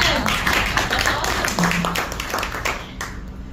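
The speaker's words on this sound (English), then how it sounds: "Yay! Clap for them!" Audience at a Women in Agile event in Pakistan claps and cheers, a dense burst of applause that gradually thins, with voices over it.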